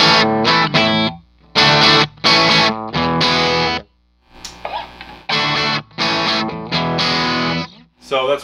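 Electric guitar played through a Marshall amp's JMP channel with the bright switch engaged, heard as loud, distorted chords and riffs in short bursts separated by brief silences.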